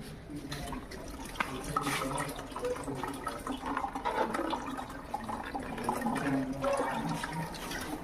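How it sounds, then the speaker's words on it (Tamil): Water released from a dam-fed tank flushing through a model toilet, a continuous gurgling, splashing rush of flowing water at close range that holds steady for the whole stretch, with no speech over it. "டேம்லேருந்து வர தண்ணியை திறந்து விட்றேன்."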